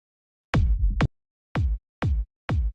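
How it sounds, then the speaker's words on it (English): Lone techno kick drum hits a handful of times, punchy and booming with short decays separated by silence, one early double hit followed by evenly spaced single thumps. "So there's just the kick on its own."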